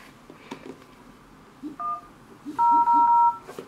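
Keypad dialing tones from a Chuwi V99X tablet's phone function: a short beep, then two longer, loud tones in quick succession over faint background clicks.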